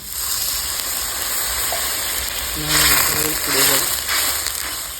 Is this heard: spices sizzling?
yes